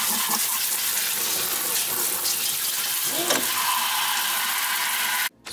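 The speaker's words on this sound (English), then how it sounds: "Make sure to always wash your vegetables" Celery rinsed under a running kitchen tap, a loud continuous hiss of flowing water with brief splashes from the stalks, then an abrupt cut-off at the end.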